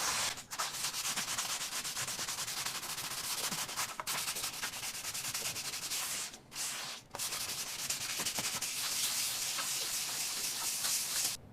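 Hand sanding of a patched drywall hole, a steady close scratchy rubbing with a few brief pauses as the sanding block lifts and resumes.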